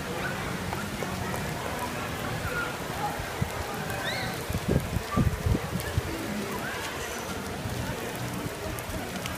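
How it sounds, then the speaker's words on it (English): Steady rain patters softly throughout at Epcot, with a few closer drips and rustles midway, and no clear voices. "It's raining."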